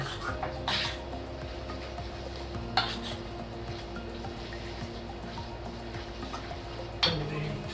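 A pan dish like pasta with pesto is stirred through, soft scraping and clinks of a utensil against the pan with a few sharper knocks, gentle sizzling underneath, no talk.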